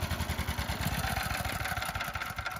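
Honda 6.5hp gas engine on a friction-drive bicycle idling, a fast rhythmic putter of single-cylinder firing pulses, moderately close and continuous throughout.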